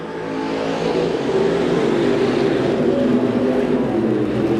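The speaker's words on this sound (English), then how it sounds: "Cars working around the high side here at the DeWitt County Fairgrounds" Non-wing sprint cars roar around the high side of a dirt oval at the DeWitt County Fairgrounds, a steady, loud engine drone of several cars close together with no break across the whole stretch.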